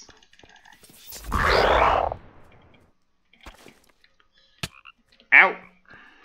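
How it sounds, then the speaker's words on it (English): Toads croak in the Minecraft video game: a long, loud, raspy croak, then scattered small clicks and a sharp, rising croak near the end, with no talk over them. "Oh god, toads?"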